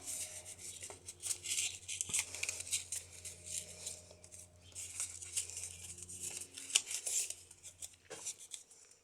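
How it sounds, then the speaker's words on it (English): Paper being cut with scissors for a shabby chic journal insert, with quiet close snips, rustling and light handling taps that come and go at low volume. "I am actually going to cut this one up a bit"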